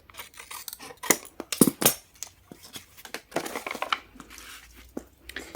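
Scissors trim paper card for a junk journal, giving a series of close, crisp snips and crinkles in uneven bursts, loudest early on and quieter rustling later.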